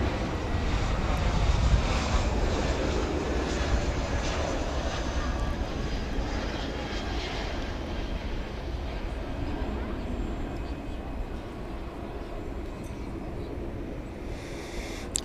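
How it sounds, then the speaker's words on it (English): An Airbus A321 arriving from Chicago O'Hare lands at DFW at night, a fairly faint, distant, steady engine rumble that gradually eases off. "2988 from Chicago O'Hare Airport. That's going to be an Airbus A321."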